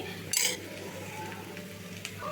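A spoon stirs and scrapes green chilli paste frying in a pan, a steady low sizzle with a sharper clink of metal near the start, close and moderately quiet, no talking.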